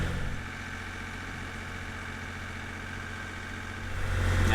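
A sailboat motors under engine power in very light winds on an offshore passage, its engine giving a steady low drone with a constant mechanical hum, close and even, with no voices.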